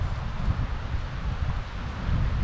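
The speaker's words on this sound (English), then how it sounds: "it's super freaking windy, so you may not be able to hear me" Strong wind buffets a microphone outdoors in the Ozark Mountains during a turkey hunt, making a steady low roaring rumble that surges and eases, with no voices.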